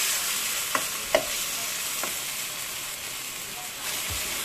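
Beef for lomo saltado sizzles in a pan with a steady hiss, broken by a few sharp scrapes and clanks as the meat is stirred.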